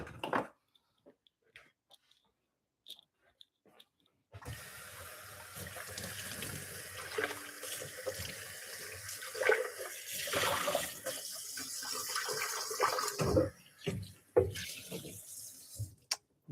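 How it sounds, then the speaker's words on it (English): Tap water runs steadily into a blender and splashes around inside it for several seconds after a quiet stretch, with a few clunks near the end. "And you just rinse out the blender and that's it."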